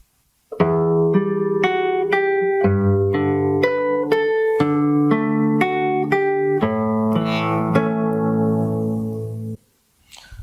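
A fingerpicked acoustic guitar plays the next phrase, close and steady, with an open low bass string under plucked treble notes that overlap and ring out before stopping.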